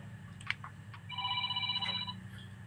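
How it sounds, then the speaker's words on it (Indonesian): A phone rings with an incoming-call tone: a sustained multi-tone electronic ring lasting about a second, fairly clear over a steady low hum, preceded by a few brief clicks and taps. "Lanjut dulu, saya ada telepon."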